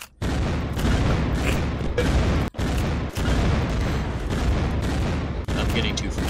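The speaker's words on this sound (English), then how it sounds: "you just have to keep shooting rockets at it" Rockets fire and explode in rapid succession during a chaotic Unturned multiplayer battle, dense booming blasts filling the whole stretch with only brief gaps, while players talk over the din.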